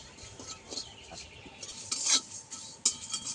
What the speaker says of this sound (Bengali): মশলা আমি হালকা করে ভেজে নেব।